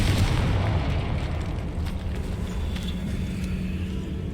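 A Confringo fire spell from the Hogwarts Legacy video game detonates with a loud booming blast at the start, followed by a rumbling roar that slowly fades into steady game ambience.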